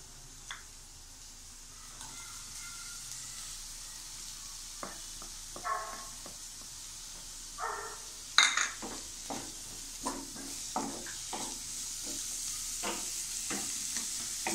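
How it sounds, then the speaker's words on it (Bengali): Onions are added to softened potatoes in a pan and stirred as they fry, giving a low steady sizzle broken by scraping spoon strokes and light clinks against the pan, close up with no talking. "পেঁয়াজটা একটু ভালো করে মিক্স করে নেব।"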